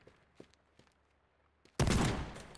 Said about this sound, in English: Okay, that's one high-powered shotgun.